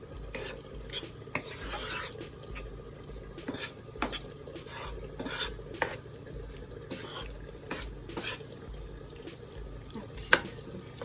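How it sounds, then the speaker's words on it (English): Meat cooks in a pan for a Thai curry, with a quiet sizzle under irregular clinks and scrapes of a utensil stirring against the pan, fairly faint and close. "Gonna put it up a little bit so I can start cooking my meat."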